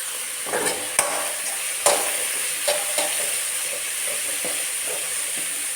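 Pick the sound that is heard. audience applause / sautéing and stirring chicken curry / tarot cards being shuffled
sautéing and stirring chicken curry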